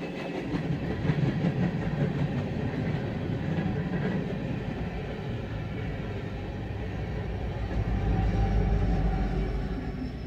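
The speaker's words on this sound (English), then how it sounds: "we got a train coming. Watch the crossing." A BNSF freight train with AC locomotives rumbles past close by near a crossing in Detroit Lakes, Minnesota, a continuous heavy roar with rhythmic clacking of wheels over the rails.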